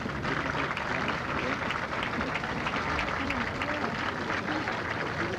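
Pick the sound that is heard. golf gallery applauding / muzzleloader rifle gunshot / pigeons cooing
golf gallery applauding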